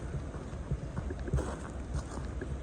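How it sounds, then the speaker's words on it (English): Steady wind rushes and buffets the microphone with a constant low roar throughout, no voices. "as you can see, it's still very windy."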